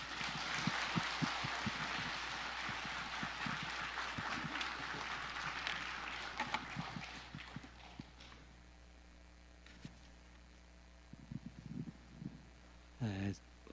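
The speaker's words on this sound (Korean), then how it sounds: "우리 박수로 목사님을 맞이하도록 하겠습니다" A church congregation applauds during a Sunday worship service, welcoming a pastor to the front; a broad wash of clapping fills the room, then gradually thins out and fades over several seconds, with scattered claps lingering.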